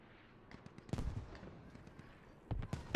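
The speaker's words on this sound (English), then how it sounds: "Ours have 2 mortar hubs." Mortar rounds in the Squad video game thud and crack at a distance, two main booms with scattered smaller pops between, fairly quiet overall.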